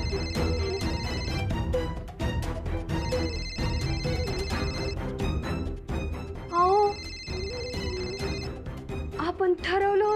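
An old-style telephone bell rings in repeated long bursts through a TV serial scene, loud and steady, with background music and voices heard alongside.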